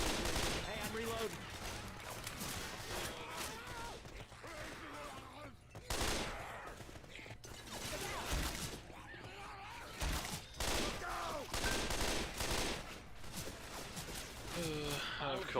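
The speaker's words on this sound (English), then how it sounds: "Hey, you ain't right in the head shooting like that." Gunfire rattles through a Left 4 Dead 2 session in dense, rapid bursts with brief pauses between volleys, loud and continuous while a person talks over it.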